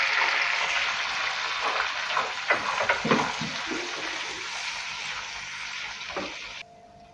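Ginger-garlic paste and onions frying in oil in a karahi for paneer karahi, a dense hissing sizzle with a few stirring knocks near the middle, fairly loud, dropping quieter near the end.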